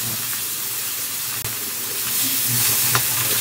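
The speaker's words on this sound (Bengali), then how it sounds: "বাকি মাছগুলো ভেজে নেওয়া হচ্ছে" Pieces of katla fish fry in a pan, giving a loud, continuous sizzle and hiss with a few soft stirring sounds. The frying sits close and carries on without pause.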